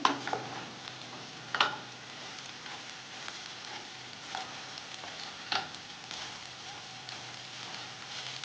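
Okra and fenugreek frying in oil in a pan, a quiet, steady sizzle with a few sharp clinks and stirring knocks scattered through it; no one talks.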